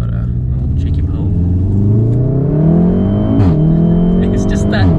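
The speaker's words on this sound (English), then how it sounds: "when you're going up the revs, it is very loud in here" A Volkswagen Golf R with a valved exhaust revs hard inside the cabin, the engine note climbing steadily through the gears with a loud continuous drone and a brief dip at a shift.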